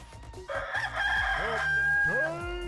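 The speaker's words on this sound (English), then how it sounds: "Oh, geez, I hit the rooster." A rooster crowing sound effect played from a soundboard, a loud, drawn-out cock-a-doodle-doo that begins abruptly and fills the whole short clip, close and clear with no talk over it.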